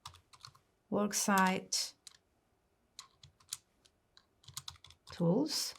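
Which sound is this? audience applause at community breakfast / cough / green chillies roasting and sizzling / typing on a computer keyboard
typing on a computer keyboard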